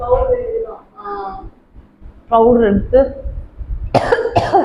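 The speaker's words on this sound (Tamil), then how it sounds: "தும்மல் இருமல் எல்லாம் நமக்கு சேர்ந்து வருது." A person coughs a few times, with short, harsh bursts near the end mixed in with Tamil speech from people nearby.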